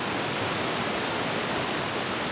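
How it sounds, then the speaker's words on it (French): A waterfall, heard as a dense, constant roar of falling water that fills the scene with even hiss and no pauses, with no voices over it. "La scène se joue sous la cascade"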